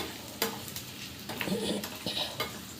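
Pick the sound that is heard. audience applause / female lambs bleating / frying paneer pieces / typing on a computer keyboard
frying paneer pieces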